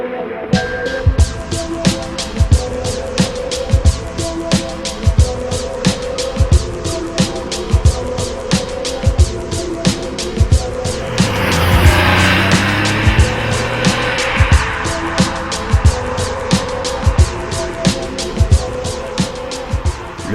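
Porsche 911 Carrera 3.2 with its 3-litre flat-six driven on the road, engine note rising and falling through the gears, a rapid clicking ticking steadily throughout and a brief swell of noise midway.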